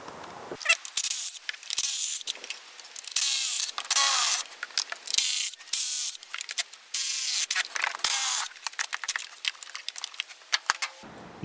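Ratchet wrench with a 10mm socket working loose the rocker cover bolts on a Holden VE Commodore engine, a rapid series of close, bright clicking bursts, some long and steady, others short and choppy, with brief pauses between.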